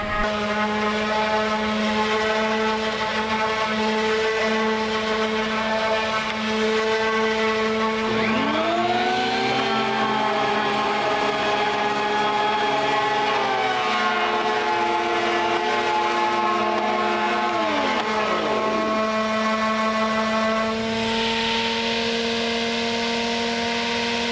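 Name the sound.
planer planing down wooden trim boards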